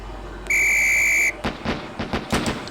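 A single sharp police-style whistle blast in the Police Quest SWAT video game rings out loud and steady for nearly a second, followed by a string of muffled thumps and clattering knocks.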